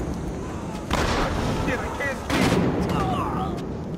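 Gunfire in the video game Battlefield Hardline comes as heavy, booming bursts of shots, with two loud volleys in quick succession over continuous battle noise.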